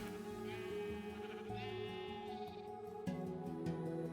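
Sheep in a video game bleat several times, wavering cries layered over a steady, dense music or ambient game soundtrack that plays throughout.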